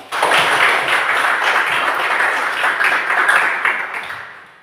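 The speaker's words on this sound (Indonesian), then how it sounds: "Sekali lagi kita berikan tepuk tangan untuk kita semua." Students in a classroom clapping together, a burst of brisk close applause that holds steady and then tapers off near the end.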